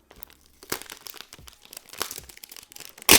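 An Asus Chromebook Flip C436 being unwrapped, with close crinkling and rustling of packaging in short irregular bursts, ending in a loud tearing crackle.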